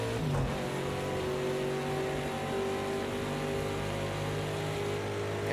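LMP2 prototype race car passing during the Rolex 24 at Daytona, heard from inside a Ford Mustang GTD race car as a continuous loud engine roar with shifting high-pitched tones and no talking.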